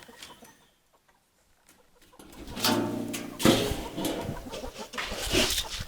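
Chickens cluck and murmur close by, starting after a quiet moment and continuing steadily with scattered louder calls.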